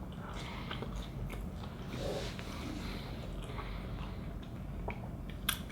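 Someone bites and chews Georgian khachapuri cheese bread close to the microphone, giving soft wet chewing and crunching over a steady low background hum, with a sharper bite near the end.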